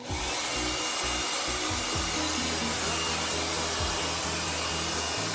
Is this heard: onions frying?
no